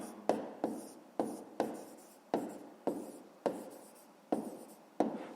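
Pen or pencil writing an answer by hand on paper, a series of about nine short scratchy strokes at a fairly even pace, close and quiet.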